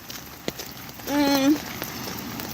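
Rain falls steadily on the ground during an outdoor walk, a soft hiss of drops that swells briefly while a faint voice-like tone passes over it.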